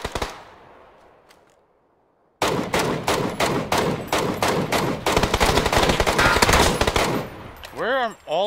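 Video game gunfire with a rapid stream of loud, close shots and bursts, like automatic weapon fire, starting abruptly after a brief fading tail and near silence, with sweeping electronic tones near the end.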